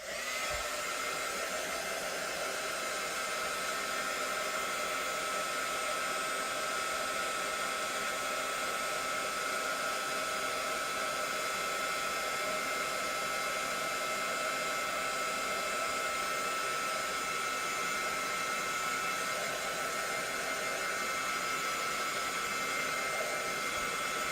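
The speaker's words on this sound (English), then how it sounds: "Do a little dry in between my layers sometimes." A hair dryer blows over layers of paint in a steady, loud, unbroken roar that lasts the whole stretch with no voices.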